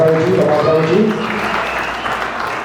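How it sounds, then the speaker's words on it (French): Wedding guests at a Haitian wedding in Brazil applauding, a steady clapping wash with a voice speaking over the start, the clapping fading slightly toward the end. "Amen, on applaudit, on applaudit."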